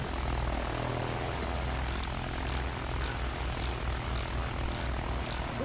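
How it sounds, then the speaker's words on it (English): Bomber aircraft engines droning overhead in Battlefield 1, a loud, low, continuous propeller roar that fills the scene, with faint regular ticking from game effects and no speech. "It's a bomber."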